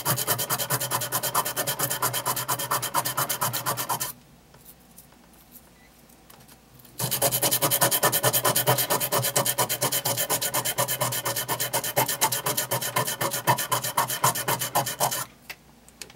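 Sandpaper rubs briskly back and forth over a Cold Steel knife handle, a dense rhythmic rasping that runs close and loud, pauses for a few seconds, then resumes.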